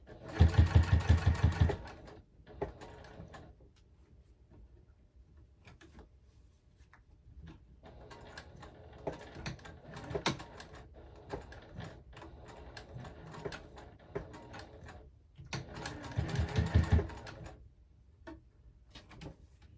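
A home sewing machine with a zipper foot runs in quick bursts as it stitches a zipper onto a clutch bag. The loud whirring runs come at the start and again near the end, with quieter handling and pauses in between.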